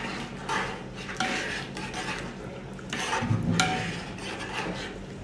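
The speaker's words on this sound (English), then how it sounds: "add now broad beans to it. Okay, then I'm going to just mix it around." A spoon scrapes and stirs through a pot of stew beef with broad beans, making uneven rubbing and clinking strokes with a few louder scrapes, close up and without speech.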